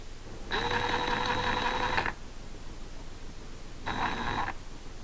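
A Milwaukee Hackzall reciprocating saw with a short stroke runs in two bursts, a steady buzzing whine of about a second and a half and then a shorter one, with a quiet gap between.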